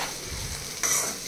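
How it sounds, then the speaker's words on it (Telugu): Curry leaves, green chilies and onions sizzling in a pan as they are stirred, a brief dense hiss that swells louder partway through, close up. "సో మంచిగా 3 ingredients వేసేసుకున్న తర్వాత మిక్స్ చేసుకోవాలి."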